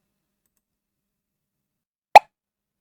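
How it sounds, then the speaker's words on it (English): A single short pop sound effect from the Scratch sound library, one crisp plop that lands about two seconds in, preceded and followed by silence. "I'll go to sound and I will use pop sound."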